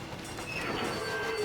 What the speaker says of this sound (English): Brakes!